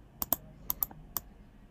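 Computer keyboard keys pressed while designing in Figma: five or six crisp, close clicks in two quick pairs and a single tap, quiet and without talk.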